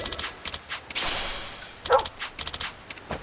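Brief dog barks and yips from Like a Dragon: Infinite Wealth sound close by, over quick rhythmic footsteps and soft background game ambience.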